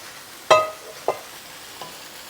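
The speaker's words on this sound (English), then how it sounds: "I'm dropping the heat down to medium and I'm going in with the potato." Potato pieces going into hot curry mixture in a pan on medium heat, a sharp clanging scrape followed by two fainter knocks of the spoon over a quiet low sizzle.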